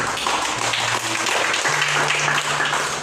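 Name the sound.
applause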